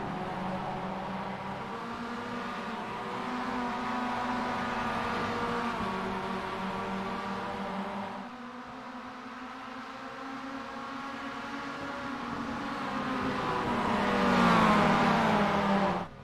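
Mazda MX-5 Cup race cars in the iRacing simulator drone steadily at a constant pitch, then the engine tone dips and later climbs in a rising rev, with no voices over it.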